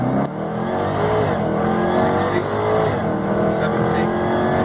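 A Jaguar F-Type SVR launches hard from a standstill, its engine roaring loud and close as the pitch climbs steadily through the run.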